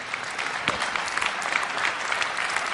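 An audience claps for Tony Robbins at one of his live events, dense and sustained applause with a few sharper individual claps popping out, steady throughout and without talk.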